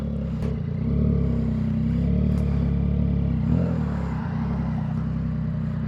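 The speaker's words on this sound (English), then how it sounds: "The exhaust sounds great." A 2026 Yamaha R9 motorcycle exhaust idles with a deep, steady rumble and slight fluctuations, close by and continuous throughout.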